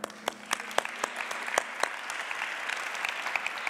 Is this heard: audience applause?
yes